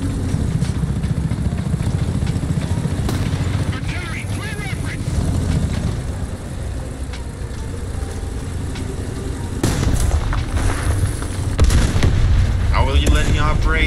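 Cannon fire in the War Thunder combat game, booming reports and engine rumble layered over dense battle noise, with people talking throughout.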